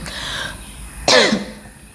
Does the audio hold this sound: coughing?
yes